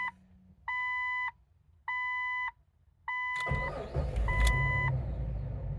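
A 2000 Jeep Cherokee with a faulty alternator gives three spaced electronic warning chimes, then the engine cranks and catches with a loud, close roar while the chime keeps sounding over the idle.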